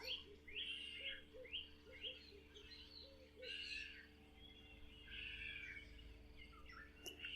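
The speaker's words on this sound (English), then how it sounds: "The sound of birds," Birds sing near a mountain above the Tugela River, faint, thin chirps and short whistled phrases in irregular bursts over a quiet, steady background hum.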